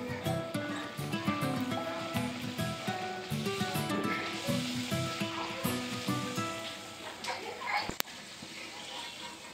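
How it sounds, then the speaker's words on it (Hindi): Spinach puris sizzling and crackling steadily as they fry in hot oil, a continuous close bubbling hiss with a brief sharp knock near the end and a bit of voice-like sound in the background. "मैंने यहाँ पर सभी पूड़ियाँ तल के निकाल ली हैं"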